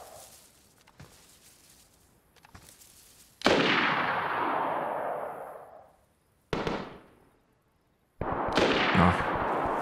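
Gunfire in the survival game DayZ: sharp shots with long rolling echoes, one loud blast decaying over a couple of seconds, another shorter report, then a further burst, alone without talk.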